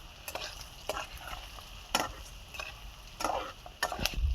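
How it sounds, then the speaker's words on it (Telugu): Boiled eggs with chili powder frying in oil over a very low flame, with a soft steady sizzle broken by a few sharp spoon-scraping strokes against the pan. "ఇప్పుడు కారం వేసుకున్నాకండి చాలా సిమ్లో పెట్టి ఫ్రై చేసుకోవాలి."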